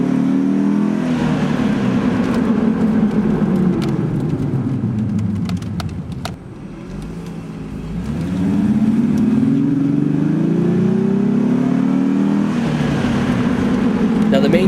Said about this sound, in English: On top of some extra horsepower, the car will have a more aggressive sound. The following sound clips are with a stock exhaust.